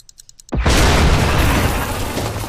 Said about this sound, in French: Vas-y, amorce la bombe.